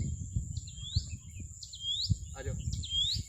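Birds in a forest with hills give repeated bright, rising chirps in regular bursts, plus one lower call, over a close rustling, thumping background, while someone speaks intermittently.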